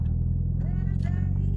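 Nissan 200SX SE-R with a turbocharged SR20DET engine, GT2860RS turbo and JWT setup, cruising calmly, its steady low engine drone constant throughout with a faint rising whine near the end.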